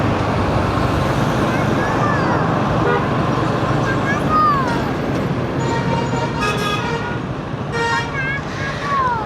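Constant loud road noise on the Chattogram–Dhaka highway, recorded from a moving motorbike, with passing cars and buses and several horn toots and beeps cutting through the steady rumble.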